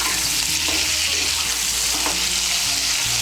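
Pieces of peeled, chopped pointed gourd (potol) sizzle loudly in hot oil while being stirred, a continuous crackling fry with occasional scraping strokes, close up and without speech.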